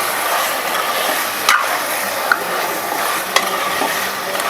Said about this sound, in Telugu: పది నిమిషాల పాటు లో ఫ్లేమ్లోనే మనం చికెన్ని ఫ్రై చేసి తీసుకుందాం